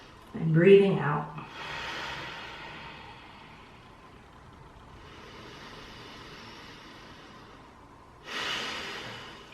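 Slow, calm breaths during a guided mindfulness exercise: a soft inhale followed by a long, gentle exhale, then a quiet pause and another breath, close and unhurried.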